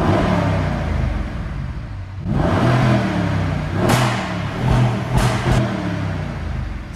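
A 2018 Mercedes-AMG GLE 63 S 4Matic Coupe with a 5.5-litre biturbo V8 in Sport Plus mode, idling loudly and then blipped in several sharp throttle revs that rise and fall, with crackling pops between bursts.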